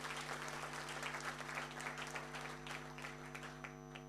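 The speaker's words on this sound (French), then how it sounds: "Applaudissez pour ce monsieur" An audience applauds at a business event, a fairly faint spread of clapping that thins out toward the end over a steady low electrical hum.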